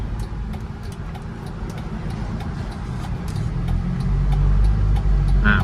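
A 1997 Mazda car in stock condition drives through a tight U-turn, its engine a steady close rumble that swells louder toward the end as it accelerates out of the turn.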